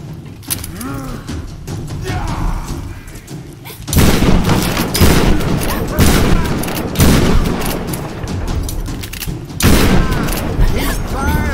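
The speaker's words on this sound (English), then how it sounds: "He's firing." Enemy gunfire rattles in the Tomb Raider (2013) video game, with loud bursts of rapid shots and booms that swell and fade in waves over a steady combat rumble, while a player speaks over it.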